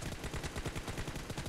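Rapid automatic gunfire in the video game PUBG, a dense string of quick shots fired in a fast steady rhythm, fairly faint and with no talk.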